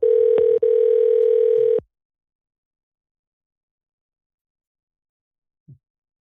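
On a radio call-in show, a loud, steady telephone tone sounds for nearly two seconds with a brief break, then cuts off abruptly into silence, followed by a faint short blip.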